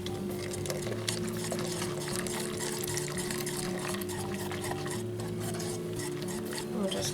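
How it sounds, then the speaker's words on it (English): Caramel sauce being stirred in a pot on the stove for a salted caramel brownie pudding, a soft continuous scraping and swirling under a steady low kitchen hum, with no one talking. "We'll just keep that stirred until it gets nice and thick"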